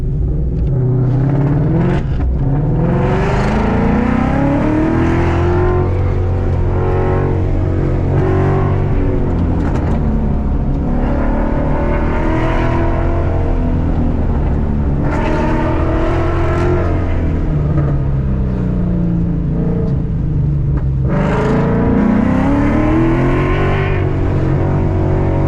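A car's engine revs and accelerates repeatedly on an SCCA autocross course, loud and close, the pitch climbing and dropping through gear changes and corners with a steady rumble underneath, no talking.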